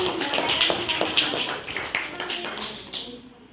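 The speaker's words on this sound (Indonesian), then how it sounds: "Oke, tepuk tangan." A classroom of students claps hands after reciting a patriotic song, a short burst of overlapping claps that thins out and stops within a few seconds.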